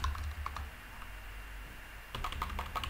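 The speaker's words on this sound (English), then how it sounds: "type the domain that you want to host it" Rapid typing on a computer keyboard, quick bursts of clicky keystrokes that pause briefly and then resume more densely, close and alone with no talk.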